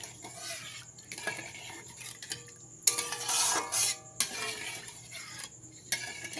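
A spoon stirs water into a mustard-paste gravy for pabda fish in a metal pan, scraping and clinking against the sides in uneven bursts, with a louder stretch of rattling midway, close by and with no talking.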